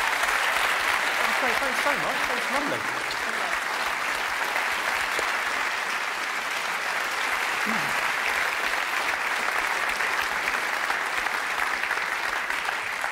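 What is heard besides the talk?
audience applause at comedy show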